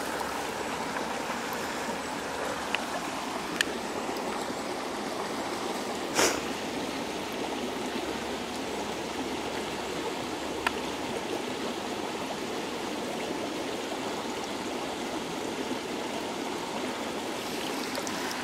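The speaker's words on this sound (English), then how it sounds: "use this bottle to fill up my water. Now it's blown up pretty far. Just put in the water, wait for it to fill up." Clear stream water flows steadily as a bottle is held in it to fill outdoors in the wilderness, a constant rushing trickle with a few faint knocks and clicks, no talking.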